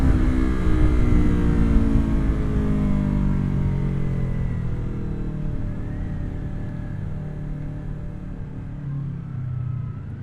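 Sport motorcycle engine, a Kawasaki Ninja 400 or Yamaha R3, revving hard toward the rev limit on a twisty road, a loud steady engine note with rising and shifting harmonics plus heavy low rumble and wind, no talking.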